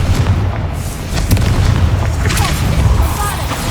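Explosion spells Bombarda and Confringo going off in Hogwarts Legacy, a steady run of loud, booming blasts with deep rumbling bass throughout.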